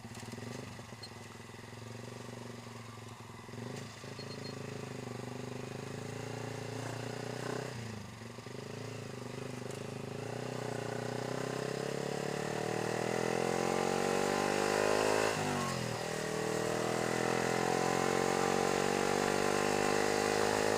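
A motorcycle rides along a road and slows for a speed bump, its engine droning steadily with rising and falling revs and a brief dip as it brakes, close and continuous.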